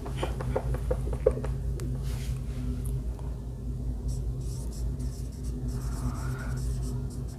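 Chalk or marker scratching on a board during a circular motion physics lesson, a run of quick close strokes at first, then scattered faint marks over a steady low room hum.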